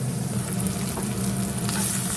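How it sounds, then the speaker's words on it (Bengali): Bitter gourd pieces frying in a pan, a dense, steady, close sizzle with no pauses and no talk. "এবার উচ্ছেটা দিয়ে দিলাম, উচ্ছেটা একটু কড়া লাল করে ভাজবো"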